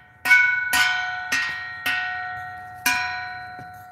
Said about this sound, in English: Ooh, they sound like chimes.